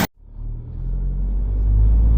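An Isuzu D-Max engine with an automatic transmission, rising from a brief dip into a deep, steady rumbling rev that builds in loudness, close up and without voices.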